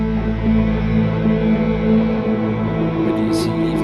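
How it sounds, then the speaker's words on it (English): Cinematic instrumental backing track without vocals, built on sustained strings with lap steel guitar and staccato string figures, playing steadily at moderate level throughout. "we have a very quick listen only to the track without the voices"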